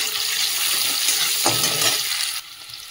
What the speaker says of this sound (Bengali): রসুনটা একটু নেড়ে নিয়েছি, নিয়ে যে পেঁয়াজ কুচিয়ে রেখেছিলাম, পেঁয়াজটাও দিয়ে দিলাম